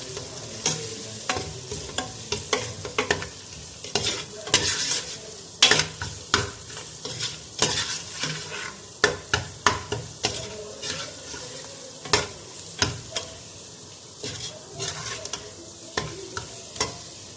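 Mutton paya frying with crushed red chilli, turmeric and salt, close sizzling under a run of sharp, irregular spoon clacks and scrapes against the pot as it is stirred.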